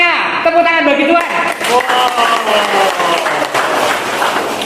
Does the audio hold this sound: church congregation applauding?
yes